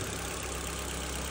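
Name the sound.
Ford Zetec car engine idling after first start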